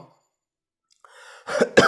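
Two sharp coughs close together near the end, preceded by a short breathy throat sound after a stretch of near silence.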